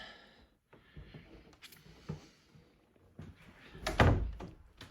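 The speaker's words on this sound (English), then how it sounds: "We'll walk through the doors here." Doors opening into an artist's studio at the start of a walkthrough, a few soft handling knocks and rustles building to a louder thunk near the end, close by, with no talking.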